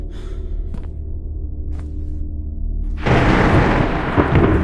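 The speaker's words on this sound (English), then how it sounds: "This storm must have taken up the power." A thunderstorm in the MADiSON video game cutscene: low rumbling thunder with a couple of faint cracks, then a sudden loud burst of heavy thunder and rain noise that stays dense to the end.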